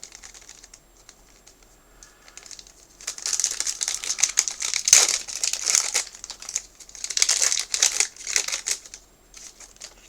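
The wrapper of a Panini Prizm draft picks trading card pack, from a blaster box, crinkles and crackles as it is torn open. Bursts of crisp, close rustling come and go after a quiet start.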